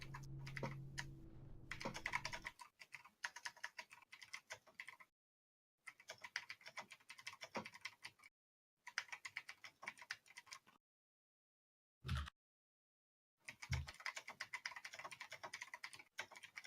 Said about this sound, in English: Oh, Mike is typing.